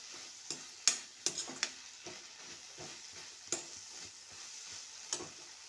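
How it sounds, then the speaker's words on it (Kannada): Pasta sizzles and is stirred in a hot pan with oil, irregular scraping and clacking strokes over a soft continuous fry, close and fairly quiet, with no voices. "ಅದಕ್ಕೆ ಪಾಸ್ತಾವನ್ನು ಹಾಕ್ತಾ ಇದ್ದೇನೆ. ಆಮೇಲೆ ಸ್ವಲ್ಪ ಹೊತ್ತು ಫ್ರೈ ಮಾಡಿಕೊಳ್ಬೇಕು."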